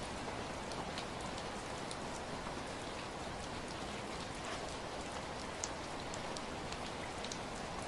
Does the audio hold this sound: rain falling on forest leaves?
yes